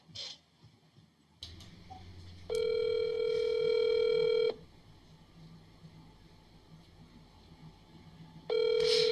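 A telephone call rings through a speakerphone held up to a radio studio microphone, two loud steady electronic ring bursts separated by quieter background noise.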